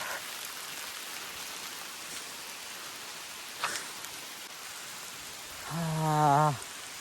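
Steady rain hisses evenly throughout in a Konkan village on a morning, with a brief sharp knock midway and a short tonal moan near the end.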